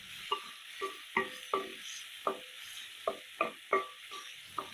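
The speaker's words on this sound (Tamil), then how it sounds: "இப்போ வந்து இதை 1 நிமிஷம் மட்டும் வதக்கி விட்டுடலாம்." Ground green masala paste being sautéed in a pan for green fish gravy, a soft sizzle punctuated by about a dozen sharp clinks and scrapes of a spoon stirring in an uneven rhythm.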